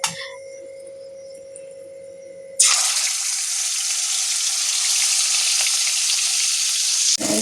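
Yogurt-marinated chicken hits a pan of hot fat after a quiet stretch of low hum, setting off a loud, sudden burst of frying that stays steady and strong to the end and then cuts off sharply.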